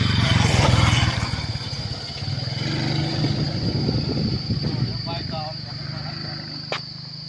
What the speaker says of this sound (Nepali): बाइक आयो खरल पारेर